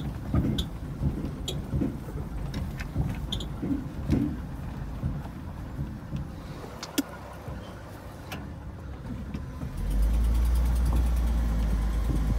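A 1982 Ford F-150 pickup hauling a ton of wood runs with a low, rumbling engine drone throughout, with scattered knocks and clatter, then a louder, steadier low hum in the last few seconds.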